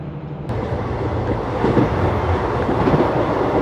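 Locomotive-hauled passenger train 14526 Sri Ganganagar–Ambala running near the Pakistan border, a steady loud rumble and clatter of rail cars on the track, with a faint rhythmic clickety-clack, heard from on board.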